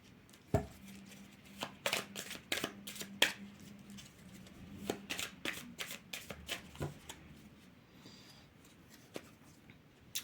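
Tarot cards shuffled by hand before a final draw, a close run of soft riffling slaps and flicks in uneven bursts, with no talk.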